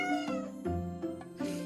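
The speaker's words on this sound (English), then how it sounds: "he starts meowing" A cat meows repeatedly beside a coffee machine, giving several drawn-out, insistent calls close by with short breaks between them and no talking.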